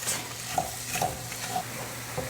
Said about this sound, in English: I'm just gonna saute these up together just for a few minutes until they get soft.